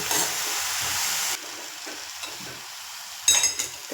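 Grated carrots sautéing in ghee for carrot halwa, a sizzle broken by stirring scrapes and a sharp utensil clink near the end, close and fairly quiet with no voices.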